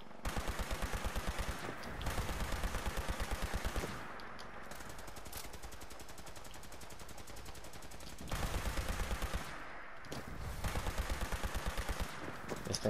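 A hard-recoiling gun in a video game fires in long rapid automatic bursts, a dense rattling stream broken by short pauses, close and loud throughout.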